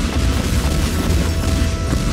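Deep, rumbling blasts and crashing debris from explosions in the voxel physics game Teardown, a dense, continuous roar heavy in low boom with no voices.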